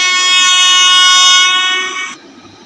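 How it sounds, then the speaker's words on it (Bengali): An express train sounds a loud, sustained horn blast lasting about two seconds before it cuts off abruptly, leaving a faint low rumble underneath. "ওই ওখান থেকে এক্সপ্রেস ট্রেন"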